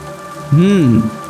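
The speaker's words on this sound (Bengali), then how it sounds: "আর তার উপরে আবার বৃষ্টি হচ্ছে" Steady rain falls on a rainy night at the end of the Shravan month in a Bengali village cartoon scene, a continuous soft patter with a brief rising and falling voice-like tone over it midway.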